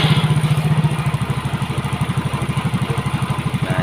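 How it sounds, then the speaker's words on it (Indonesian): Honda Soul GT motorcycle engine, a bike hard to start with high compression leakage, idling with a steady, rapid low thumping pulse close by, no voices over it. "sekarang kita hidupkan motornya"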